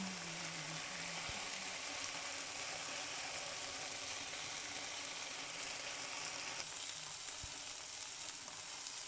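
Korean pork belly (samgyeopsal) sizzles in a hot frying pan, a loud, constant crackling hiss throughout with a couple of faint clicks and no talking.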